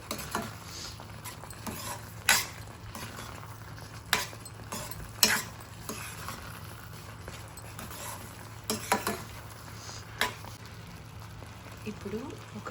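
Semolina upma being stirred in a pan to keep lumps from forming, with intermittent scraping and clinking of a spoon over a low background hum and faint sizzle, while a person talks.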